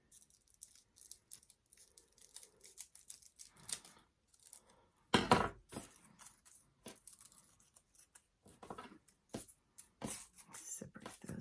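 Scissors snip through crepe paper for a holiday pine cone craft in a series of sharp, close cuts, with quiet pauses between them and one louder snip near the middle.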